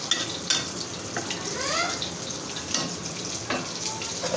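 Fish frying in a pan with dried taro stolon (kochur chora) for a Bengali fish fry, giving a steady close sizzle and crackle with a few sharper clinks and stirring scrapes.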